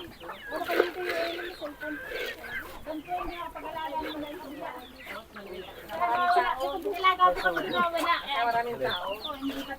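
Chickens cluck and squawk steadily nearby, with people talking faintly underneath.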